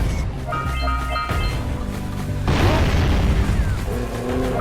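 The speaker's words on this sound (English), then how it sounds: "that is a legit bomb" A bomb goes off in the Jak and Daxter: The Precursor Legacy video game, a loud deep boom partway through, set against dense game music and effects.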